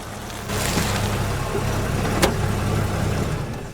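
A taxi on a rainy road, its engine and tyre noise rising out of steady low rumble and holding for several seconds, with a brief sharp swish midway.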